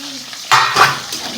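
Bitter gourd (karela) fries in a pan with a close, crackling sizzle that rises in short bursts as it is stirred, with faint scraping of a utensil against the pan.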